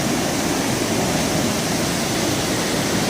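Water rushes over rocks at Bhatinda Falls near Dhanbad, Jharkhand, a dense unbroken roar that stays steady and fairly loud throughout, with no voices.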